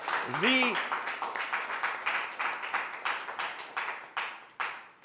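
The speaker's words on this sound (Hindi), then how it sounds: "तो मैं चाहूँगा कि ये बुजुर्ग हमारे अपने लिए एक बार तालियां बजा दें।" Elderly men and women at a public forum clap together in a steady run of claps, fairly close, with a brief voice rising at the start.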